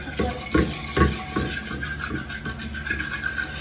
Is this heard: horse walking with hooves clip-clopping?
no